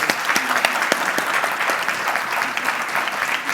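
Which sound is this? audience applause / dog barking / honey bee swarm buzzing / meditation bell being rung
audience applause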